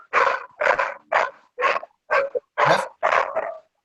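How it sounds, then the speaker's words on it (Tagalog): A dog barks in a steady series of about eight sharp, loud barks spaced roughly half a second apart, close to the microphone with no talk over them. "Saan galing yung aso?"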